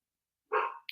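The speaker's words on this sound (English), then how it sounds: "You can probably hear my dog barking in the background." A single short bark from a dog indoors, one clear yap, fairly close, with nothing else around it.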